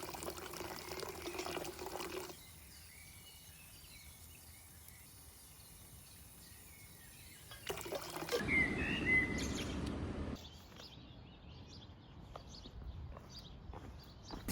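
Tap water runs and pours in the woods near Vaduz, Liechtenstein, a steady broadband rush that swells louder mid-clip and then eases. Faint bird chirps sound in the background.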